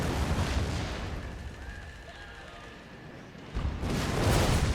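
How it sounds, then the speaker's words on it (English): Howitzer artillery in a video game booms in heavy, rumbling blasts that swell to a loud roar near the end, with no voices. "Maybe I shouldn't have warned them by telling the howitzer to fire into this area."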